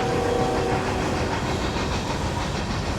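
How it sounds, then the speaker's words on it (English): Long train rolling past nearby, a continuous loud rumble and rattle of rail cars with faint clicking and a steady hiss, no talking. "a train is going by while I'm in the middle of pouring my heart out to you"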